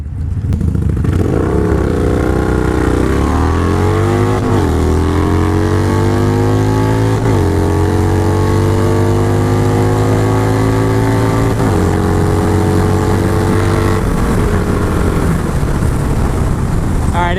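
A Harley Iron 883 and a Yamaha Bolt roar side by side in a drag race, engines droning loud and close, pitch climbing through several gear shifts with brief dips between, continuous throughout.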